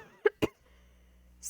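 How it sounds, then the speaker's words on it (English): Two quick, close coughs in a row, followed by quiet room noise. "Still got that cough."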